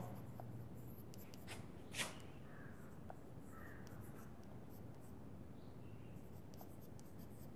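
Math being written on a classroom board for a class 8 algebra lesson: a steady scratchy scrawl of strokes with one sharper tap, close and without speech over it.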